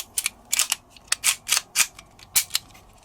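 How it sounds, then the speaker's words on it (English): Magazine being inserted into a Walther P22 .22 LR pistol, a rapid run of sharp metallic clicks and snaps, about a dozen close, crisp clacks in quick irregular succession. "Insert your magazine."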